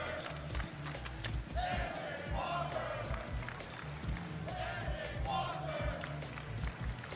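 A crowd at a King of Fighters XV tournament final at Combo Breaker 2025 chants in unison, rising in two swelling waves of voices across a busy, reverberant hall, with a commentator's voice underneath.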